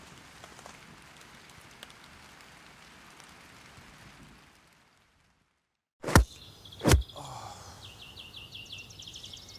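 Rain patters steadily on a surface at an alpine campsite, a soft continuous wash that drops out briefly before resuming, with a couple of sharp nearby thumps and a faint bird call.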